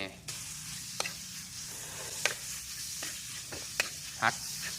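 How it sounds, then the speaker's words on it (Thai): Beef stir-fried in a pan with onions for a spicy Thai dish, a steady sizzle broken by sharp clinks and scrapes of a utensil against the pan at irregular intervals, close and fairly quiet, with no talking. "ผัดให้สุกเลยพี่น้อง"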